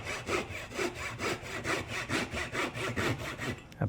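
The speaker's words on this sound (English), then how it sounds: "Now I can trim this just using a small crosscut saw" A small crosscut saw trims a piece of wood with quick, steady back-and-forth strokes. About a dozen rasping pushes and pulls come in an even rhythm, close and clear, with no talking.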